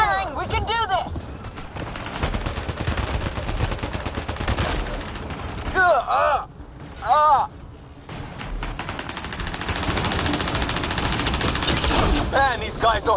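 Gunfire in the Mass Effect Andromeda video game: dense, loud bursts of rapid shots and fusillades fill most of the stretch, broken by short pauses and explosive hits, with voices calling out over the fighting.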